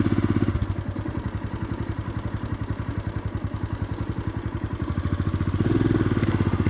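A motorcycle engine thuds with a rapid, even pulse while the rider sets off down a hill, staying close and moderately loud, swelling slightly near the end.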